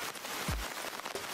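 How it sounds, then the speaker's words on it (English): Heavy rain falls in the horror video game The Bathhouse, a dense, continuous hiss of drops on surfaces with a brief low thump partway through, loud and steady with no talk. "The rain is so loud."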